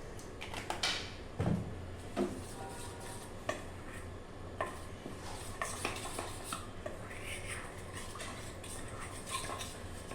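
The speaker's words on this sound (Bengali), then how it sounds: "কর্নফ্লাওয়ারটা একটু জল দিয়ে গুলে নিলাম।" Cornflour being stirred with water in a bowl, a spoon clinking and scraping against the dish in irregular taps and swirls, fairly quiet and close, with no talk.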